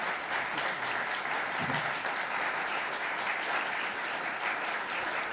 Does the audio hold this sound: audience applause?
yes